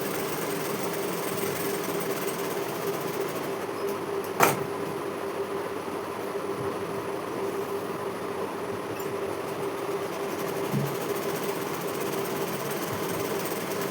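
Sewing machine stitching saree cloth onto a blouse lining, a steady continuous mechanical whir and hum running close and even throughout, with one brief sharp click partway through.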